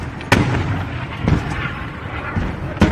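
Blasts from missile strikes in the Israel–Hamas war zone, with sharp booms around the start, the middle and the end of the clip over a continuous rumbling, smoky battlefield din.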